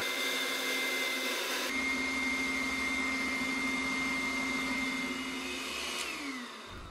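An electric mixer beats butter, sugar and eggs with a steady, loud motor whine that shifts pitch early on and keeps running without speech.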